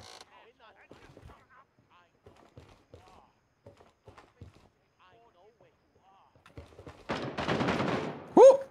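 Video game gunfire erupts near the end in a dense, loud volley of rapid shots, after a stretch of quiet with faint scattered sounds and voices talking.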